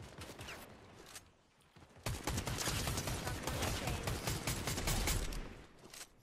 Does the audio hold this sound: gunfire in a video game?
yes